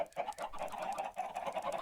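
Chickens in a video game cluck continuously in an overlapping, busy chorus, steady and fairly close, with no voices over them.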